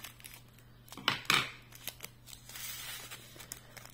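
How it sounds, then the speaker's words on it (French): A small pair of craft scissors makes a few quick, crisp snips close by, with light rustling of materials and faint room noise around them. "La petite paire de ciseaux."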